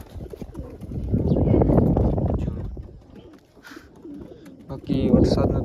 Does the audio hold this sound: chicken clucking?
no